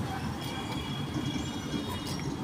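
A small amusement-park train rolls along nearby with a steady rumble and faint high rail squeal, a continuous even drone with no voices.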